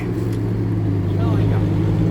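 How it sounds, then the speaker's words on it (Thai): A farm tractor engine running close by, a steady low droning hum that holds even throughout, with a voice speaking over it. "เอารถไถตามไอ้จอยไป"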